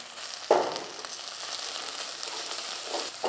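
Curry leaves drop into hot oil for chicken biryani, a sudden sharp crackle that settles into a steady sizzle, close by with no talk.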